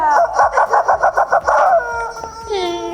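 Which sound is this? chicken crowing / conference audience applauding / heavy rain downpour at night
chicken crowing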